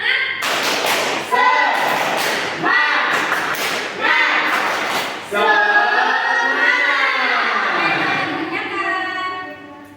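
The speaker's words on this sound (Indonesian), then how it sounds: "Oke, sebelum mengerjakan kita tepuk semangat dulu yuk." A primary school class performs the 'tepuk semangat' clapping routine, with rhythmic bursts of group claps in sets alternating with children's chanting voices, close and loud, ending in a sustained group chant.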